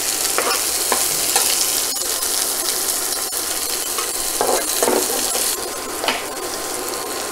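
Onions with chana dal and green chillies fry in a pan for idli upma, a loud, dense sizzle filling the whole stretch, broken by repeated stirring scrapes of a spatula.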